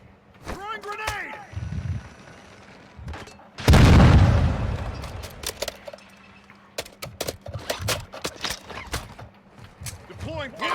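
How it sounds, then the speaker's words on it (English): A grenade going off in the online shooter Warzone 2, one heavy, loud boom with a rumbling tail, set among scattered gunshots, footsteps and in-game callouts, with players talking over it. "Throwing grenade."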